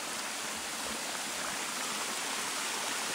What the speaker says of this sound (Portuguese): Agora temos pro lado de cima da cachoeira